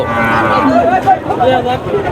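Heifer cattle low at a busy rural livestock market at Chhatra haat in Naogaon. A few short moos rise close by among the background chatter of buyers and sellers.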